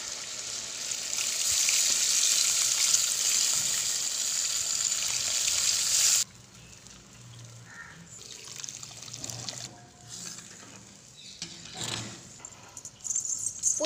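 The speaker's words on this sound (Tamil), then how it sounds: "இப்போ நம்ம வந்து புளி கரைச்சு ஊத்திக்கலாம்" Dissolved tamarind water pours into a clay pot of village-style fish curry, giving a loud hissing, sizzling rush for several seconds, followed by quieter bubbling, clinks and scattered handling sounds close by.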